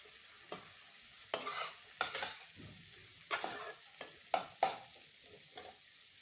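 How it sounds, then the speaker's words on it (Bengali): Spices with turmeric frying in a pan for a red amaranth greens dish, a soft continuous sizzle broken by about ten separate scraping strokes of a spatula, fairly quiet and close. "তো আমি ভালো করে এগুলো কষিয়ে নেব একটু"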